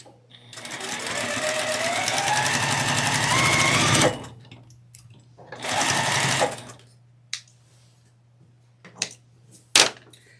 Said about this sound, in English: I'm going to take these 2 pairs and sew them together